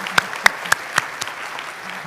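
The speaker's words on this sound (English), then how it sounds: "All right, another round of applause for Libby." A few sparse, distinct claps ring out in an uneven rhythm, like scattered applause from a small group rather than a full crowd.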